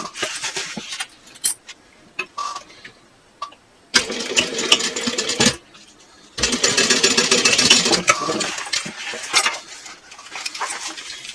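Sewing machine basting a seam on a fabric clutch panel, running in several bursts of rapid stitching separated by short pauses, close and fairly loud with no talk.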